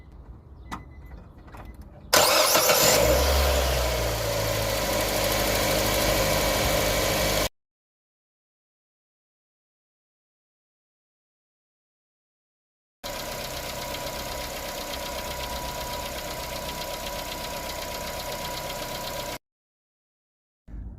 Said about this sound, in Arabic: هنبتدي بقى دلوقتي نفتح الجهاز ونستعد لتشغيل المحرك مع اللزوجه ال20 W50.